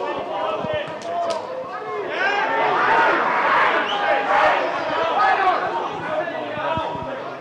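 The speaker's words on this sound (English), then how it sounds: "Crowd not happy there with the decision for Swindon Town's throw" Football crowd at a Gillingham Academy versus Swindon Town Academy youth match groaning and shouting in displeasure at a throw-in decision, a sustained loud swell of many voices with a few sharp calls over it.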